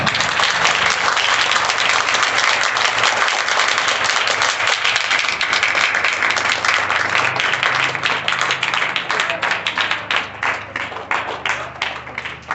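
A class of students claps loudly and steadily at the opening of a mathematics lesson, sustained dense applause that thins into more distinct claps toward the end.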